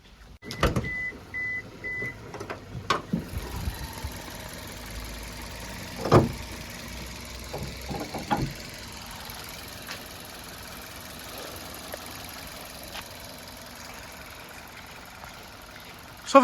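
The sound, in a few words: Maruti Nexa Baleno Zeta engine idling, bonnet open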